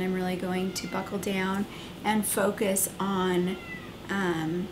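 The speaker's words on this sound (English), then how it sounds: "Sorry if you can hear a cat meowing in the background." A cat meows repeatedly in a home, its drawn-out, clear calls coming through one after another over someone talking steadily in the foreground.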